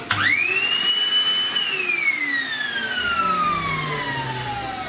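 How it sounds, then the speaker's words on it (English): A shop vacuum fitted with a cyclone separator runs loudly and steadily, its motor whine rising at start-up and then slowly falling in pitch while the suction roar holds close and constant. "It is very loud being a shop vac."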